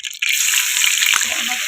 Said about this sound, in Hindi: 1 चम्मच लहसुन अदरक का पेस्ट हम इसमें शामिल कर रहे हैं